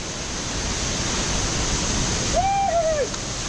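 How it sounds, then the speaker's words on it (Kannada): Kukuda waterfall near Chikkamagaluru gives a steady, dense rushing roar of falling water, with a brief whistling bird-like call near the end. "ಆ ಬೇರ್ನ ಹಿಡ್ಕೊಂಡು ಇಳಿದ್ರೆ ಇವು ನಮ್ಮ ಕುಕುಡಾ ಫಾಲ್ಸ್ ಬರುತ್ತೆ"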